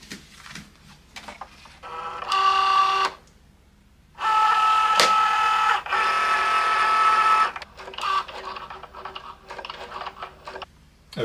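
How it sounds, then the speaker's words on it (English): A Cricut cutting machine writes out a greeting-card sentiment with a pen, giving close, buzzing motor whirs in several start-stop runs of a second or more, with brief quiet gaps and clicks between them. "I'm just going to run the Cricut and have it write that out"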